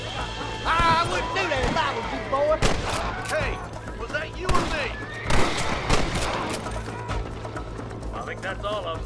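Gunfire in a canyon shootout in the video game Red Dead Redemption: repeated sharp gunshots ring out in irregular bursts beneath shouting voices and game music.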